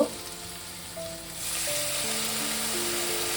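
Turmeric-spiced masala for a potato and mushroom curry sizzles in a pan, then surges into a louder, steady hiss partway through as a splash of water hits the hot spices, with no talking.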